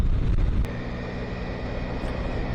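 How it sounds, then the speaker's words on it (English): Heavy wind buffeting a microphone on a moving motorcycle on an English road, a loud low rumble with a sudden drop in intensity partway through. "Really, really windy."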